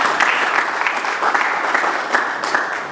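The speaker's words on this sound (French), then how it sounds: "Vous allez applaudir, s'il vous plaît." Dense audience applause fills a cultural forum hall in Lubumbashi, steady and fairly loud throughout with a broad crackle of many hands and no break.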